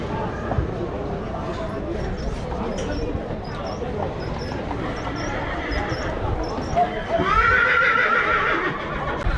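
Horses whinnying at a horse fair with around 150 horses under open sheds, a loud neigh rising near the end over steady outdoor crowd murmur and hoof noise.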